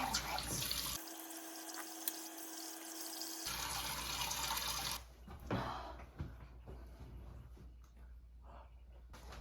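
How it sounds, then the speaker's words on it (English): Water from a tap runs steadily while a face is rinsed, a loud broadband rush that breaks into softer splashes and drips partway through. "Rinse my face now."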